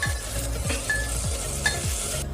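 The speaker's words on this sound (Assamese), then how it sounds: "লগতে অকণমান বিলাহী দি দিম আৰু ইয়াক ভালদৰে ভাজি থাকিম।" Onions frying in a pan with ginger-garlic paste and tomato, a steady sizzle broken by repeated scraping stirs of a spoon about every half second.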